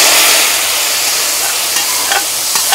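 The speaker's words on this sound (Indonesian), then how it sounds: "Sekarang kita tumis." Ground spice paste of kluwih and beans for vegetable lodeh hits hot oil in a pan, giving a loud, steady, close sizzle with a few faint scrapes of stirring.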